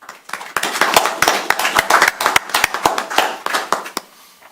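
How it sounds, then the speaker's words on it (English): A small group at a township board of trustees meeting gives a short round of applause, a few pairs of hands clapping close by in an uneven patter that builds quickly and fades out after a few seconds. "I think that deserves a round of applause."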